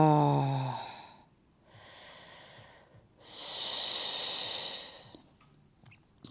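Deep, slow breaths during a foam rolling session: a sharp inhale, then two long, close exhales separated by pauses, with no talking.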